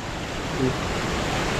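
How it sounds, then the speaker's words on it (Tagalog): Water gushing steadily from a natural spring at a remote spot, a constant broadband rush with no pauses, fairly close to the microphone. "ganito pa rin po ang lumalabas dito ng tubig oh. Medyo lumakas lang po ang source ng tubig ngayon dito oh."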